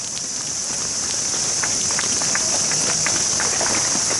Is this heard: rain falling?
yes